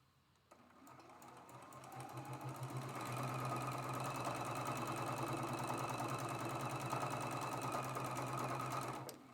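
Sewing machine stitching quilt block pieces for a traditional mosaic star block, a steady rapid mechanical chatter running continuously close by for several seconds, starting softly and holding at an even level.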